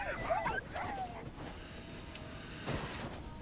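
Ghost dogs in the Fade to Silence video game bark and whimper with yips in a quick burst over the first second, followed by a lower ambient bed and a faint rustle near the end.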